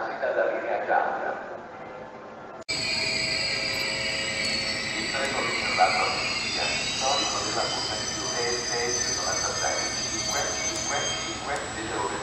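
A train pulls in at a platform of Treviso Centrale station in Italy, a steady rolling rumble with a high metallic whine from the wheels, loud and close for the whole stretch, under faint voices.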